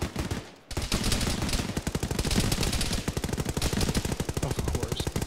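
Rapid automatic gunfire from a military shooter game rattles loud and close in a steady stream of shots for several seconds, after a brief silent gap at the start.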